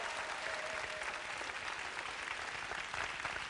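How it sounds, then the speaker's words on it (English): Audience applause from a crowd of people, steady clapping sustained for a few seconds at a moderate distance, with no talking over it. "A round of applause for Lucky and all those nice people."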